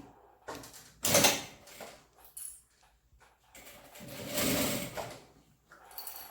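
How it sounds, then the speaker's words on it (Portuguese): A sewing machine stitches a bag's gusset onto the main fabric piece, running in two distinct bursts separated by quieter handling noises, close and fairly soft with no talking. "Agora, nós vamos fazer uma costura, prendendo o fole à peça principal."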